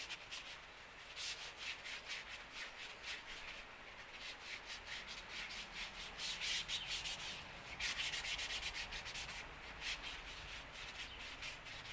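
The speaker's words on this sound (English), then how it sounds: "we'll just give these a light sand. Just to shine it up" Rock saw parts are lightly sanded by hand to take off burrs, a close, steady rasping rub with quick repeated back-and-forth strokes throughout and no talk.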